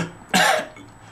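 A voice imitates a little girl coughing into the air, one short harsh burst up close and fairly loud, then quiet.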